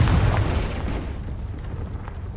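Casting the Confringo spell in the game Hogwarts Legacy sets off a loud, deep explosion boom at the start, followed by a rumbling decay that fades over two seconds.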